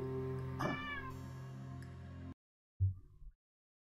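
A cat meows loudly and close, a rising-falling cry during continuous game audio, then another short meow after a brief silence.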